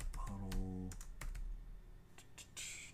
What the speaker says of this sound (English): I'm using the wrong keyboard